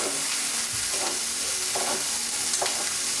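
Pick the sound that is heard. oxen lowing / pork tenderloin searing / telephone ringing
pork tenderloin searing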